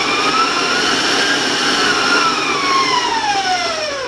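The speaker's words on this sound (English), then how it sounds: "if you're going to raise your speed, I like to put a towel over my mixer" Electric stand mixer beating brownie batter at a raised speed, a loud, steady whine with a rising and falling pitch, covered by a towel, running continuously with no talking.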